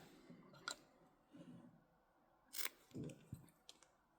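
Scissors snip off the excess ears of a handmade band, giving a few sharp, quiet clicks and short cutting sounds that are spaced apart, close by and faint, with no talking.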